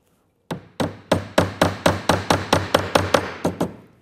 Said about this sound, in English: We're then going to hold the wire down with these little U-nails or staples, and they're just driven in by hand.